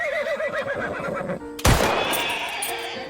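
A horse neighs loudly and close, a wavering whinny that is cut off by a sudden sharp impact followed by a lingering noisy wash.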